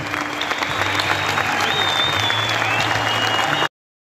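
Sustained, loud applause from a large concert audience at the Palace of Friendship of Peoples, a dense steady wash of clapping with faint crowd murmur that stops abruptly.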